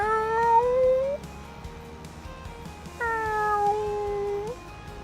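A human voice imitates a kitten meowing, two drawn-out plaintive meows with falling pitch, close and clear, separated by a short quiet pause.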